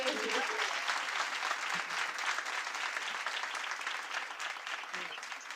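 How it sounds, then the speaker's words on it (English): Audience applause at a National Science Week STEM expo competition, a dense sustained wash of many hands clapping at steady loudness for several seconds, with a faint voice near the start. "Can we give her a round of applause again"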